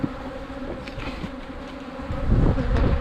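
Honeybees buzz around an open hive in a continuous close drone, with the hum swelling louder near the end and no voices.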